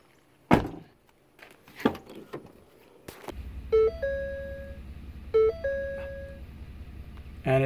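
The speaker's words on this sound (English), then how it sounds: "Shut the door." A Ford F150 left rear door is shut with a sharp thunk, followed by repeated electronic chime tones and a low steady hum, with a couple of smaller knocks beforehand.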